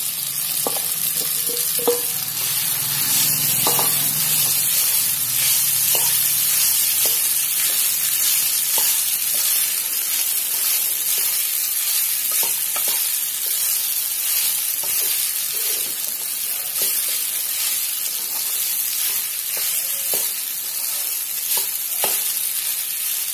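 Soaked sabudana frying in a pan with green chillies, being stirred steadily: a continuous bright sizzle with scattered scraping knocks of the spoon, loud and close, no voices.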